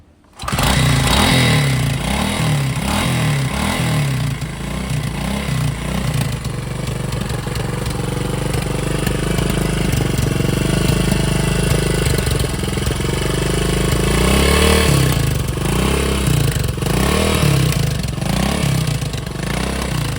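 A Honda TLR trials motorcycle with a modified exhaust idles loudly and steadily up close, its rough, throbbing putter holding an even pace with slight swells in revs.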